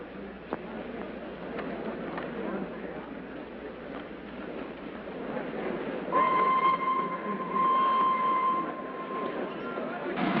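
Steady rumbling of a 1936 passenger train in motion, with a rhythmic clatter of wheels on rails and a sustained whistle tone joining partway through. Voices talk under the train noise.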